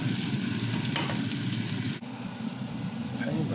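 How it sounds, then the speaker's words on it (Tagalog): Pork tenderloin sautés in a pan with garlic and onion, giving a steady, loud sizzle and frying hiss with light stirring, continuing without a break. "lalagyan na natin ang ating pork tenderloin. Igisa lang natin siya ng konti."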